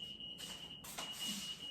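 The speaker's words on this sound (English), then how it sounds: "That's my timer" A kitchen timer beeps with a steady, piercing electronic tone, a single sustained pitch broken by short gaps, heard fairly close in a home kitchen while Christmas dinner is cooked.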